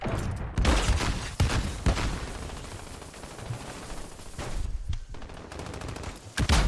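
Rapid automatic gunfire from Call of Duty Modern Warfare rattles in dense, overlapping bursts during a competitive hardpoint match. A short lull comes near the end before another quick volley, all loud and close with no voice over it.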